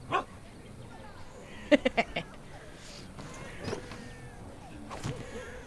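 A dog in the video game Dragon Age: Origins gives a quick burst of yips and barks near the start, then a few fainter whimpers and barks, heard over low game ambience and a speaking voice.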